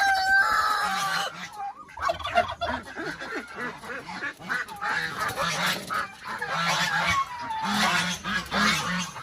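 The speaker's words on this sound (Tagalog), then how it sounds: "So, ito, ang ganso natin." Geese on a mountain farm honk loudly and repeatedly, close by, in overlapping bursts, with other fowl calling in the background and no talk.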